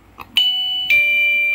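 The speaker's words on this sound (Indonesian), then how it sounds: "bel pintunya langsung bunyi guys" A wireless doorbell chimes once it is working again after a capacitor repair: two clear, close electronic ding-dong tones, the second note held and ringing on, after a faint click.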